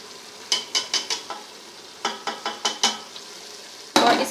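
Beef korma is stirred and fried after whisked yogurt is added: two quick bursts of rhythmic spoon scrapes against the pot over a low sizzle, then a sudden louder hiss near the end, with no speech.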